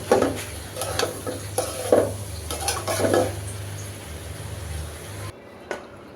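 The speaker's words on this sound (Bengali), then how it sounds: "আর শাকটা আমি নেড়ে চেড়ে এরপর একটু ধনিয়া পাতা দিয়ে দিলাম আর একটু ভেজে" Leafy greens (saag) with coriander leaves are stirred and fried in a pan: close scraping and clattering strokes over a steady sizzle and low hum, which drop away sharply near the end, leaving only a faint tap.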